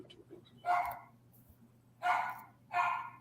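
A dog barks three times at a distance during a singles social gathering, short sharp barks separated by pauses over a steady low hum.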